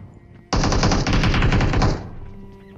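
A loud, sustained burst of automatic gunfire in the BGMI video game lasts about a second and a half, then cuts off, leaving a quieter background.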